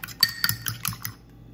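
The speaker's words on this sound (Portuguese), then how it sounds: "bater ele com um garfo" Fork beating a seasoned egg in a bowl: about six quick, close metallic clinks in a brisk rhythm, fading out after a second, no talk.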